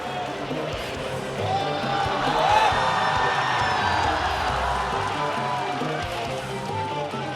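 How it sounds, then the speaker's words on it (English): A Muay Thai fight crowd roars and whoops as the bout is stopped, a broad swelling wall of cheering with shouts, while a commentator talks over it. "And the crowd erupts."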